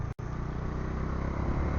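A 2024 Bajaj Dominar 400 motorcycle on the move, its engine a low, steady, fairly quiet drone that swells slightly toward the end after a brief dropout at the start.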